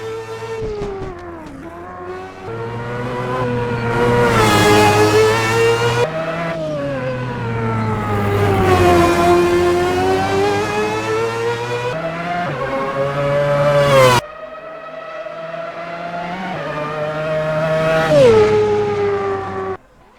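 A Mazda 787B race car engine in the Assetto Corsa video game screams through rising and falling revs and gear shifts, high-pitched, loud and close, with no one talking.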